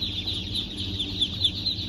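Muscovy ducks on a farm give a continuous chorus of high, thin peeps and calls, close and steady, with a low background hum.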